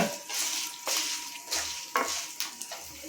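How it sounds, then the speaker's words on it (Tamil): Garlic and dried red chillies sautéing in a pan, a soft steady sizzle with several sharp scraping stirs of a spoon against the pan at irregular intervals, close and clear with no voices. "பூண்டு சேர்த்து ஒரு ஒரு நிமிஷம் நல்லா வதக்கியாச்சு இப்போ பன்னெண்டு காஞ்ச மிளகாய் சேர்த்துக்கலாம்"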